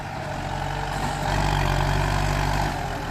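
A Kubota M9540 tractor engine runs nearby, a steady, heavy low diesel rumble that swells louder through the middle before settling back.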